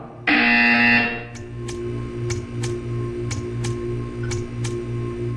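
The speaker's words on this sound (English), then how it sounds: "You will hear a buzzer." A loud electronic buzzer in Portal 2 blares for about a second, then a steady hum continues with regular sharp clicks ticking away.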